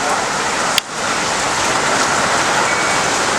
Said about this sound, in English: It is raining outside, man, and it's going down.